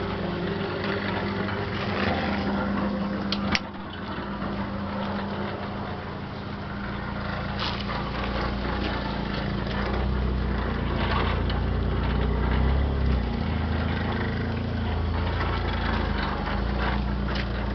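A concrete mixer runs with a low, steady mechanical hum from its drive. The hum is quiet and continuous and stays nearly unchanged from start to end, with no voices.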